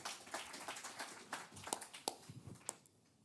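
Sparse, faint clapping from a small audience at a marathon media call, a thin scattering of individual hand claps that fades out within a few seconds.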